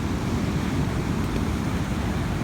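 Big, rough sea waves surging steadily after a typhoon, a continuous loud broadband wash of surf with wind noise, no talking.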